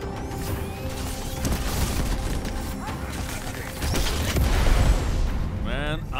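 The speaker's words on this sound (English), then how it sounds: "Explosions." Explosions in the video game Crackdown 3, a dense barrage of booms, crashes and rumbling debris filling the scene, louder toward the end, with talk over parts of it.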